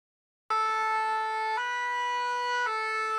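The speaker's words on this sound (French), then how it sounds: "La sirène retentit pour entonner le requiem aux références tardives ici dans le département du Mono." An ambulance siren in the Mono department of Benin starts abruptly and sounds loud and steady, its wailing tones shifting pitch twice in a regular cycle.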